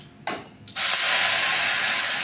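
Gravy poured into a hot pan for paneer butter masala, sizzling: a brief splash, then a loud, steady, bright hiss of frying that continues without pause.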